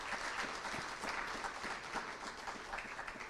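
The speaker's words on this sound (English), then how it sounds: "So let's applaud for our sabbatical friends." Steady, dense audience applause fills a year-end staff celebration, a continuous wash of many hands clapping at even loudness from start to finish with no voices on top.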